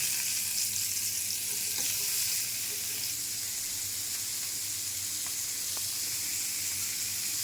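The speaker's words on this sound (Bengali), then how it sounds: "তেল গরম হয়ে গেছে, এখন মাছ ভাজা দেব।" Fish fries in about a tablespoon of hot oil in a frying pan, producing a constant bright hiss of sizzling at moderate volume with a few faint clicks, no talking.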